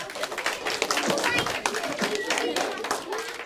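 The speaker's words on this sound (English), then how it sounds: "Give him a clap, that's brilliant." Primary schoolchildren clap in a classroom during a history lesson, a quick burst of scattered hand claps close by, with an adult voice speaking over them.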